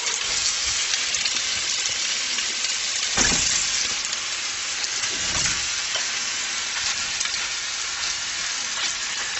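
Veal paupiettes brown in a hot pan with a loud, constant frying hiss, close up, broken by a couple of brief bursts of stronger sizzle and spatter partway through.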